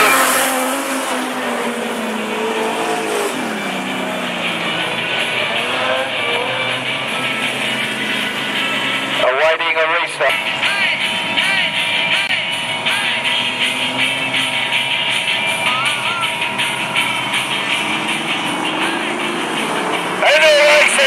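Outlaw sprint sedans race around Mac's Speedway, engines roaring loud and continuous with a dense pack of cars passing and revving, while an announcer calls the race over the top.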